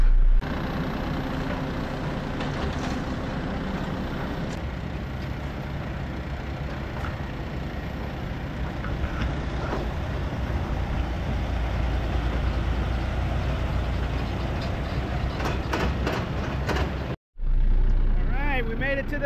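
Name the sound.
Kenworth T800 truck engine while driving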